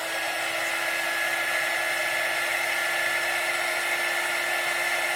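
A heat gun blows hot air in a steady, loud, unbroken rush, warming stuck frog tape and frisket over cured resin art.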